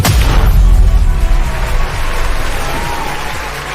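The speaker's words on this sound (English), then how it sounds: "Oh man, listen to that crowd out there" A large, lively crowd cheering and applauding at a marketing event, with a loud, dense roar of clapping and shouts that holds steady and eases slightly toward the end.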